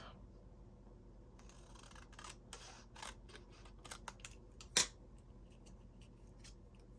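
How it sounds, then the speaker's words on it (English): A small end is snipped off with scissors while preparing pears for a harvest project, giving a few faint scattered snips and then one sharp, close cut standing out from a quiet background. "maybe we'll just cut this little end off"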